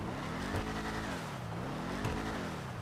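Vapid Dominator ASP muscle car engine in GTA Online, a steady low rumble idling and revving gently with two slight swells, moderately loud and close, no talk.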